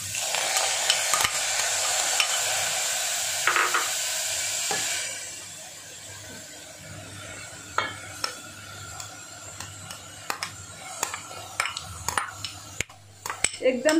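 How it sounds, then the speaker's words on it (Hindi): Vegetables softening in a pan over a gas stove are stirred for a pizza topping: a loud, steady sizzle for several seconds fades to a quieter simmer with repeated scraping and clinking of a utensil against the pan. "पहले मैंने सब्जी को गैस पे पूरा थोड़ा सॉफ्ट कर लेते हैं"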